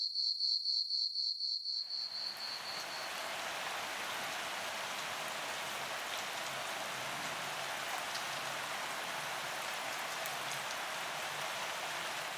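Heavy rain in the forest of Jaldapara National Park, a steady dense hiss that swells in after a couple of seconds of quiet insect chirping, then continues evenly and close with no voices.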